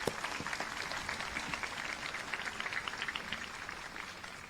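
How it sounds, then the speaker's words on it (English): A crowd applauds steadily at a middle school promotion ceremony, a dense patter of many hands clapping at moderate distance, sustained for several seconds without talk. "Let's give our police department a round of applause."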